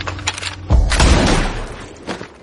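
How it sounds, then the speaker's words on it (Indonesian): A single heavy gunshot booms close by, its blast rolling out and fading over a second or so. "Salah satu dari mereka yang bernama Marley melepaskan tembakan"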